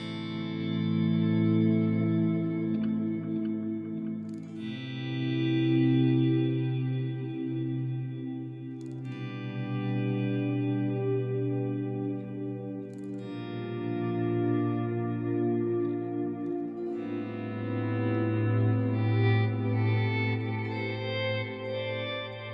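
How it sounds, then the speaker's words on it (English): Slow, swelling ambient guitar tones with stacked delays giving long echoing repeats and a wash of reverb, building and fading in layered waves with no talking. "And especially if you add reverb to wash it down."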